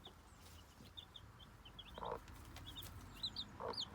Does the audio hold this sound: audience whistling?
no